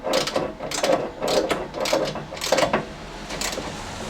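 Ratchet wrench tightening a bolt on a classic Fiat 500 engine during reinstallation, a steady run of rapid clicking strokes in repeated bursts, close and fairly loud with no talk.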